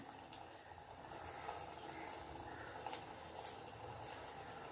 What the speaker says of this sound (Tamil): ஆயில் ஹீட் ஆன பிறகு இந்த மாதிரி நமக்கு என்ன சைஸுக்கு வேணுமோ அந்த சைஸுக்கு வடையாக்கி ஆயிலில் போட்டு நல்லா கோல்டன் கலரில் பொரித்து எடுத்துக்கலாம்